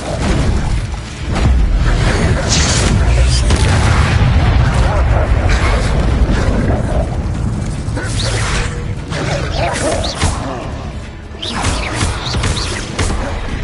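Incendio fire spell cast in the Hogwarts Legacy video game: a continuous roaring whoosh with booming bursts and crackling pops, loud and dense throughout, with brief flares near the middle and end and voices mixed underneath.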